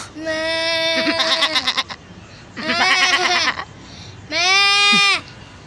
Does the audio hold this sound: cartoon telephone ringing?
no